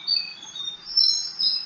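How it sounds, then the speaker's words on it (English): Small birds twitter in a high, busy chorus of thin chirps, continuous and fairly faint throughout with a few louder bursts, no voices. "Then the small birds twitter."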